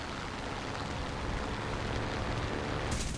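Cockpit guns firing from a C.202 Folgore fighter in War Thunder air battles, a steady, dense rattle of rapid shots under the roar of the engine, continuous and fairly loud throughout.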